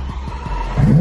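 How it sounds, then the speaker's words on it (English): Lamborghini on its stock exhaust giving a short rev, a deep engine rumble that rises and swells toward the end, heard close and loud in a brief burst. "Stock exhaust. Still sound good. Hit a little rev."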